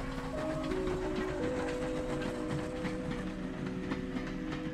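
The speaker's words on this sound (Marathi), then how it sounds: "ही आपली मुंबई लोकलची" An early-morning Mumbai local train runs along the tracks with a steady, close rumble, faint rhythmic clatter of the wheels and a low metallic hum throughout.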